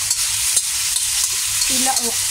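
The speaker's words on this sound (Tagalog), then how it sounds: "Nagluluto ako ang niluluto ko ay pakbet" Pakbet, a Filipino vegetable dish, fries loudly in a pan with a dense, steady sizzle and occasional scrapes of stirring close up; no talking.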